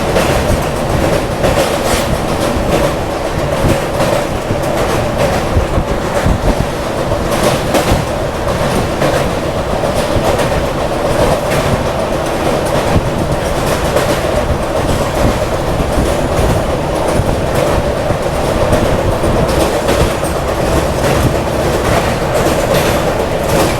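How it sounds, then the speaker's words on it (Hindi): The Patna Suvidha Express runs on the rails from Mumbai toward Patna, heard from inside a sleeper-class coach as a loud, continuous rumble with rhythmic clickety-clack of wheels over rail joints throughout. "पटना सुविधा एक्सप्रेस।"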